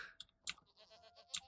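A Minecraft goat bleats in short, sharp bursts, three quick cries spaced across a second and a half, with faint clicking of a computer keyboard in between.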